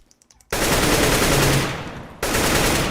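M4A1 rifle gunfire in the game CS:GO, two sustained bursts of rapid automatic fire, loud and close, separated by a short gap, following a few faint clicks.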